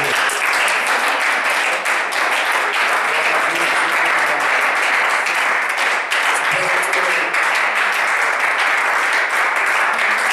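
A church seminar congregation applauds loudly and steadily, a dense, continuous wash of many hands clapping at once with no break throughout.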